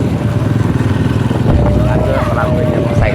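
A motorbike engine runs close by with a steady, loud throbbing rumble, its pitch rising and shifting about halfway through.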